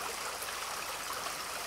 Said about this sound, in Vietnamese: Muốn lên đỉnh Pa Thiên, mọi người phải đi ngược dòng suối Pa Thiên.